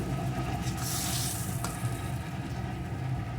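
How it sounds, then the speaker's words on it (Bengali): About a cup of water is poured into a hot pan of partly cooked pumpkin fried with garlic, giving a steady rushing hiss and sizzle that holds evenly loud and close throughout, with no talking. "এখন আমি এক কাপ মতন জল দিয়ে দিলাম"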